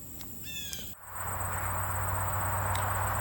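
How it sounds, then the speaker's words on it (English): A pine warbler sings briefly and faintly in a bog forest, a short thin trill early on, followed by a steady hum of insects and a high continuous buzz. "but I'm hearing a pine warbler in the background"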